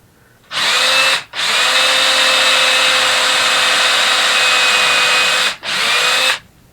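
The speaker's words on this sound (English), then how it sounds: "So we're going to drill a hole first." A power drill boring a hole into a metal dowel pin, a loud steady whine held for several seconds, briefly cut off twice before starting again, close and alone.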